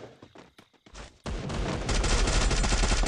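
Free Fire gunshots erupt loudly after a quieter opening, turning into a dense sustained burst of rapid firing with explosive booms.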